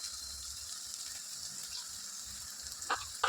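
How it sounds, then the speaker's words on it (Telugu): Spice masala fries on a low flame in a pan for an ivy gourd curry, giving a faint, steady sizzling hiss with a couple of light clicks near the end. "మంట సింబుల్లో పెట్టుకొని ఫ్రై చేసుకోండి"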